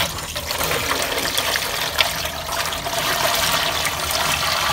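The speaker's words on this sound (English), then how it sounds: "Start putting some water in." Water rushing steadily into a large canning pot, a continuous loud splashing pour with no talk over it.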